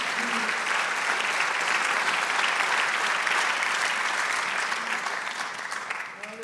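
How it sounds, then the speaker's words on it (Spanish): A church congregation breaks into loud, dense applause that holds steady and then starts to fade at the end. "Denle un aplauso al Señor, amén."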